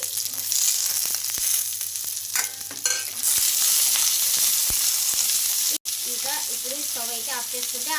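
Green chillies and fresh coconut pieces fry in hot oil with a steady, loud sizzle, broken by scraping stirs and a brief sharp gap midway, no talking over it.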